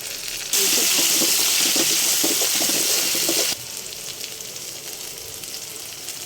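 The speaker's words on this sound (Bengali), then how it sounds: "একটু পানি দিয়ে দেবো।" A loud hissing sizzle bursts up as water hits a hot frying pan of onion, garlic and cumin paste, holding steady for about three seconds before dropping back to a quieter simmer.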